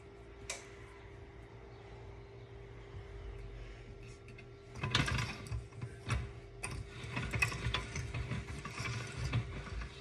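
A hand-cranked pasta machine cutting fresh homemade pasta dough, a quiet stretch before a run of soft ratcheting, clicking mechanical turns that rise and fall in bursts, close by with no talk.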